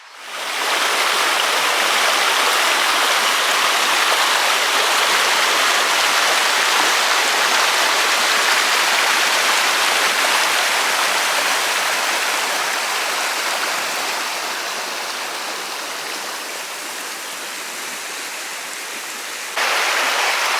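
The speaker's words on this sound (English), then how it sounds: "it is just awesome to be out here amongst the sounds of the water" Creek water rushes and splashes steadily over rocks close by, a dense continuous flow that eases slightly near the end before swelling again.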